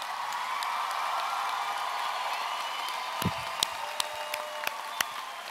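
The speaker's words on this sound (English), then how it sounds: "Graduates, join me in giving them a big round of applause for the support of you." A large crowd of graduates at a college commencement ceremony applauds in a steady, fairly distant wash of clapping, with a few sharper individual claps and faint whoops standing out near the end.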